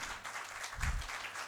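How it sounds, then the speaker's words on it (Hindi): Audience clapping breaks out at the wrong moment during a talk at a culture camp, a moderate, steady patter of hands with a low thump partway through. "आपने गलत टाइमिंग से तालियां बजा दी"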